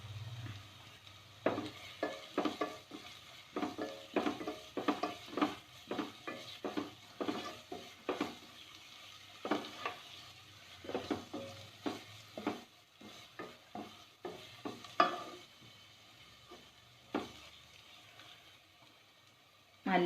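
Spice powders being stirred into frying onions in a pan for channa masala, a quick rhythmic run of spoon scrapes and taps over a soft sizzle, close and steady with no talk.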